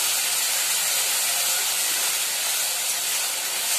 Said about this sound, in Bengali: মশলাগুলো প্রচুর ছিটছে।